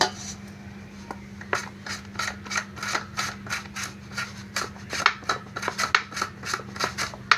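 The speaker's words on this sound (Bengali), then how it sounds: "এবার পেঁপেটাকে আমি কেটে নেব।" Peeled papaya is cut into pieces, a run of crisp, evenly spaced knife chops on a board growing quicker and denser, close and clear over a low steady hum, with no one speaking.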